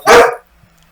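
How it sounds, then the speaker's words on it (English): A single loud, close dog bark cuts in sharply and fades within half a second, heard alone during an online meeting. "Someone's dog is not happy."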